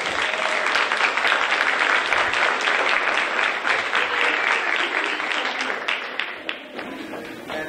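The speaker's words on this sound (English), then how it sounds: "let me have a big round of applause for Mr. Beal and all his students" Audience applause at a young composers' concert night, a dense steady wash of clapping that carries on for several seconds before thinning out toward the end.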